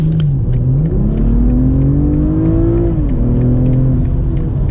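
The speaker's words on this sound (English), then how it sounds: "we could do one acceleration here when the road is clear, go up to the speed limit" A 2023 BMW M340i accelerating hard from a merge up to highway speed, its engine note rising steadily in pitch as it pulls through the gears, loud and continuous inside the cabin with no talking.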